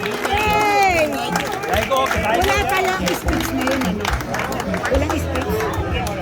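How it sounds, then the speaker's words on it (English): A crowd at an evening campaign event claps for the campaign co-chairs, the applause blending with cheering voices, music and general chatter in a busy, loud space. "Let's give them a big round of applause."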